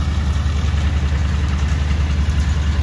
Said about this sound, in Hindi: अब भूसा मशीन को और देख लेते हैं